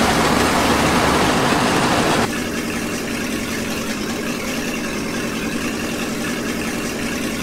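A John Deere tractor engine in the Farm Simulator 2015 game drones steadily at a mid pitch, louder at first and then dropping to a quieter, even hum with no talk.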